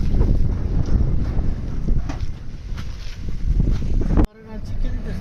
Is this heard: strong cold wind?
yes